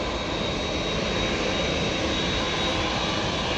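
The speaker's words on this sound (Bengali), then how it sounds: "আরেকটি বিমান এইমাত্র উঠে যাবে এখনই।" Biman Bangladesh airplane moving along the runway, a loud, continuous roar of aircraft engines at close range, steady and unbroken with no voices.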